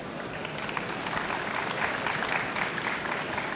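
Sustained audience applause at a financial-sector technology conference, a dense, steady wash of many hands clapping throughout, fairly close and even in loudness.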